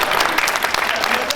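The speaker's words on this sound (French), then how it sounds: "les gens, ils applaudissent déjà" Street show audience applauding, a dense steady wash of clapping from many hands throughout, fairly loud and close.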